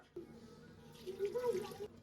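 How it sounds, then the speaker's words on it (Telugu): Water is poured into a pot of rice, running in a soft, fairly faint stream for about a second, with a low rumble and occasional voice underneath. "8 గ్లాసుల వాటర్ అయితే వేసేసాను"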